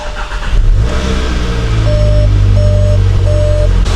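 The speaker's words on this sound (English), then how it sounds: "Let's start up the engine, see how it runs" A Volkswagen GTI engine that burns oil turns over and settles into a steady, loud idle, with a droning low hum and a few faint electronic beeps.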